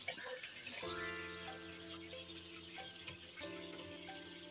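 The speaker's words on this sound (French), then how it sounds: "Si on fait couler l'eau dedans, l'eau remonte immédiatement." Tap water runs steadily into a completely clogged shower, a continuous close splashing flow with tonal resonances as the water backs up in the basin, no voices.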